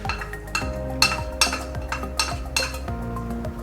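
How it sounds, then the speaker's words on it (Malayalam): A spoon scrapes and clinks against a metal pot while roasted coconut is stirred into a Kerala pumpkin and bean erissery curry, giving several sharp clinks at an uneven rhythm over a low steady hum. "നമ്മൾ വറുത്ത് വെച്ച തേങ്ങ നമുക്ക് ഇനി ഈ കറിയിലേക്ക് ഒന്ന് ഇട്ട് കൊടുത്തിട്ട് നന്നായിട്ടൊന്ന് മിക്സ്"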